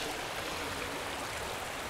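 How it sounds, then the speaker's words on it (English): A creek feeding into Flaming Gorge flows nearby, producing a continuous, even rush of water that fills the scene without pauses or voices. "so this creek is one of the tributaries"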